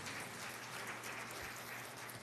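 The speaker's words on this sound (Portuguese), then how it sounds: "Vamos aplaudir ao Senhor." A church congregation applauds together during a worship service, a steady dense wash of clapping that fills the whole moment without any speech.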